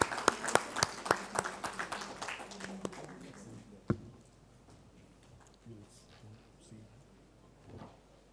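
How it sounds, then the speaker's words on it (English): Audience claps for a minister at the close of a conference session on logistics policy, a quick sharp burst of hands that fades within a few seconds, followed by quiet room noise and faint speech. "let us end this session with a round of applause to our Honorable Minister"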